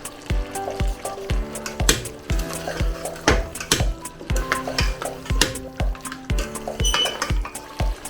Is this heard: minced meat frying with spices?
yes